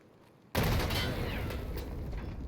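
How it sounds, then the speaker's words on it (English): A grenade blast in Escape From Tarkov bursts suddenly after a quiet moment, a loud broadband explosion followed by a long, rumbling, slowly fading roar, heard alone with no talk. "If we throw a grenade on the ground at this distance"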